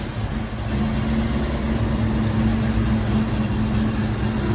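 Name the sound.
1969 Yenko Camaro 427 V8 idling with Flowmaster 40 exhaust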